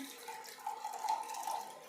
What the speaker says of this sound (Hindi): ले लेती हूँ पानी 1 गिलास